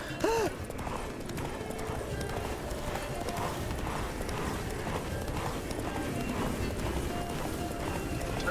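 Geralt's horse Roach gallops in The Witcher 3, a steady rapid clip-clop of hooves running throughout with a brief whinny near the start, over game ambience.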